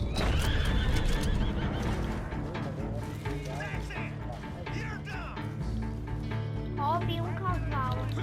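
A horse in Red Dead Redemption 2 whinnies loudly and repeatedly at close range, with hoof clip-clops and a continuous game soundscape underneath.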